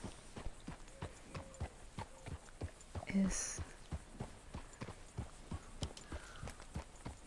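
Horse hooves clip-clop at a steady walking rhythm while riding in the video game Red Dead Redemption 2, the even beats running under a voice throughout.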